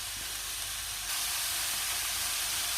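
Vegetables and meat, onions and carrots among them, fry in a pan with a steady, hissing sizzle that jumps louder about a second in and then holds.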